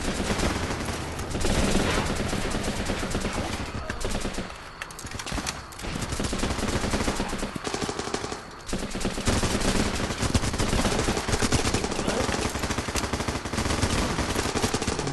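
Dense, loud gunfire in a war video game, continuous machine-gun bursts and overlapping shots filling the whole stretch with barely a pause.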